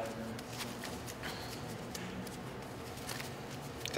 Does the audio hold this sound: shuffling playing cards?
yes